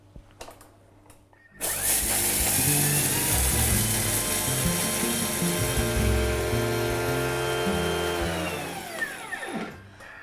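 A Thermomix at speed 10 roars into high-speed grinding of lentils and lemon peel, a loud whirring buzz that holds steady for several seconds before winding down.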